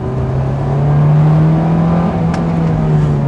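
A 1999 JDM right-hand-drive Honda S2000 engine holding a steady, slightly rising rev close by, a smooth continuous drone with a faint rattle.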